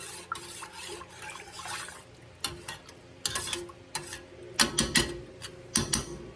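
Spoon stirring chicken bouillon into giblet gravy in a pot: repeated scraping, clinking strokes against the pan in uneven bursts, close up, with a quiet background between strokes.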